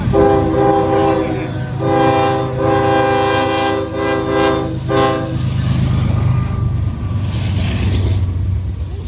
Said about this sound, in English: So we got a bunch of coal hopper cars here, completely empty.